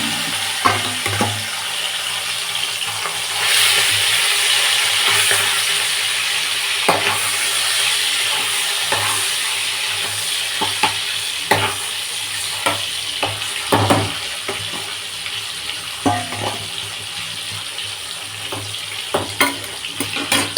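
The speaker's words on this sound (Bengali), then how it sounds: "মাছের তরকারিটা ফুটে দিচ্ছি।" Fish curry simmering in a pan, a loud continuous bubbling hiss with scattered clinks and stirring scrapes close by, no voices.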